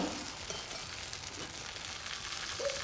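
Appam batter ladled onto a hot pan greased with oil, sizzling in a steady, close, continuous hiss with faint frying crackle throughout, no voices.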